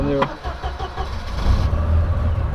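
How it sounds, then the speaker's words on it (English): A Volvo 940 tuned to 365 whp starts up close: a brief starter whir and catch, then a rising, rumbling idle that grows louder and settles. Someone talks briefly at the start. "So if you want to start the car, you just do like this"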